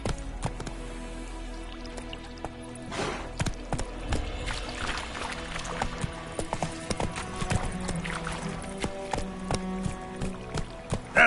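Hooves of Roach, the horse in The Witcher video game, clip-clopping in a steady galloping rhythm, close and fairly loud, with splashy dripping and pouring sounds and an occasional faint whinny.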